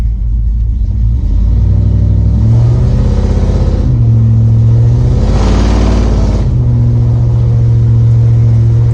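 A 1993 Ford OBS truck with a 350 engine on its first test drive, a loud close rumbling engine that revs up and shifts through gears, rising and falling in pitch over a steady low drone.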